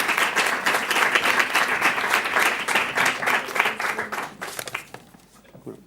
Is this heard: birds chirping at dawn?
no